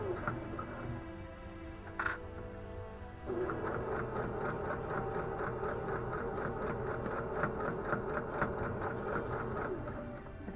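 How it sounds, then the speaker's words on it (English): A sewing machine runs steadily along the zipper teeth of a fabric pouch, guided by a zipper foot, its needle ticking in a quick even rhythm after a brief start-up knock, close and continuous. "then we're gonna sew"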